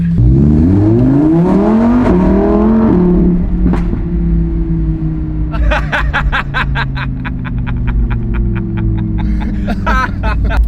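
A Lamborghini Huracan Evo Spyder convertible drives off, its engine rising through revs in sweeping pitch climbs, then settling into a steady drone while rapid ticking and clicking sounds pulse over the top, loud and close.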